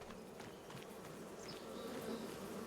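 Beehives on a farm in the Farming Simulator 25 game giving off a steady, continuous buzzing drone, soft and even throughout with no talk.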